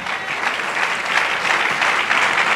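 A church congregation applauding after a scripture reading, dense steady clapping from many hands filling the room at a loud, even level throughout.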